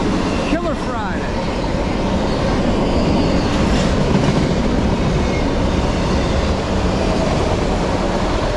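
A Norfolk Southern freight train rumbles steadily past up close in Middlesex, New Jersey, wheels clacking over the rails in a continuous loud roar, with a brief metallic squeal near the start.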